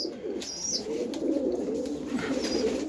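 Light-colored pigeons kept in a breeding loft coo in a low, continuous murmur with a few faint chirps on top, and no one speaks.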